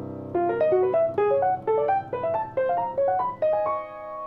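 Piano with the left-hand chord held steady while the right hand shifts upper notes into dissonant voicings: about eight clear, evenly spaced struck chords in a moderate rhythm, close and alone, played as a jazz example.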